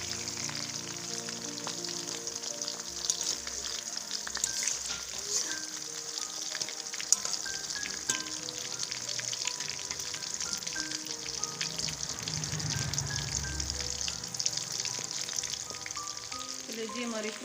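Chicken liver fries in a karahi after being flipped, producing a steady, fairly quiet sizzle and fine popping crackle throughout, with occasional light utensil sounds.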